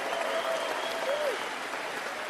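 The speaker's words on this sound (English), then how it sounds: "Give them a round of applause for our local Conservative candidates for a change." A rally crowd applauds local Conservative candidates, steady distant clapping washing through a large space, fairly faint.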